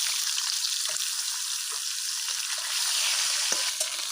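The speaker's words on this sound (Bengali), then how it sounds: "ওই তেলেতে আমি ডাঁটাগুলো ভেজে তুলে নেবো" Vegetable stalks fry in oil, sizzling steadily with a bright, hissing crackle, broken by a few soft pops, close by and with no talking.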